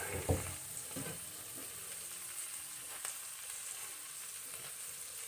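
Collard greens frying under a cooking lid in a pan, a steady soft hiss of sizzling throughout with a few light clanks early on, fairly quiet and close with no talk.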